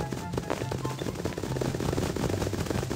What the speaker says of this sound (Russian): слышу, слышу, выстрелы где-то здесь идут